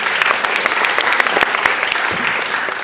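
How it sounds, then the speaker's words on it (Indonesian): Audience applause at an ACFFest 2015 festival talk, a dense steady patter of many hands clapping throughout, fairly loud and close, with a faint voice under it. "Bisa tepuk tangan boleh."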